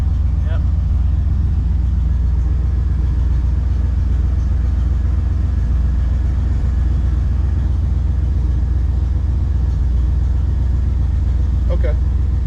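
A 1968 Cadillac Coupe de Ville V8 runs steadily just after its first start in five years, a loud, constant low rumble with no breaks and a brief faint chirp near the end.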